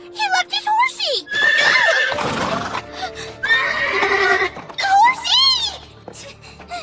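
In an animated fantasy series, a horse gives a shrill, wavering neigh at the start and another near the end, with a voice speaking in between.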